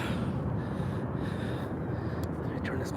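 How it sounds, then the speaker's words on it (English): Heavy breathing blown close into a microphone, rough gusty huffs and a sharp gasp over a steady windy hiss. "Let me turn this mic this way so you can hear my heavy breathing"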